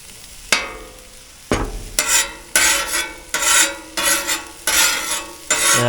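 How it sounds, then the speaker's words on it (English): Butter sizzling on a Traeger Flatrock griddle, a steady soft crackle broken by bursts of louder frying and scraping in an uneven rhythm, close and with no talking. "Let's go ahead and lay a little butter down here for our eggs."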